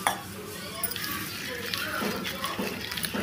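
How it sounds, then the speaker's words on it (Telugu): Dried shrimp being rinsed by hand in water in a bowl, with sloshing, swishing splashes and light clinks against the bowl at close range, continuing steadily throughout. "ఇలా నీళ్లు పోసుకొని శుభ్రంగా ఒక 2-3 సార్లు కడిగి పక్కన ఉంచుకోవాలి"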